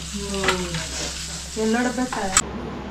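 Pomfret fish, two to a tawa, fry in oil with a continuous close sizzle, while a voice talks faintly in the background and a sharp clatter lands near the end.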